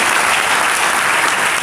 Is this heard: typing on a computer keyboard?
no